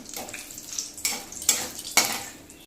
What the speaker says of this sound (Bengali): দেখো তেলটা গরম হয়ে গেছে, একটু গোটা গরম মশলা ফোড়ন দিলাম।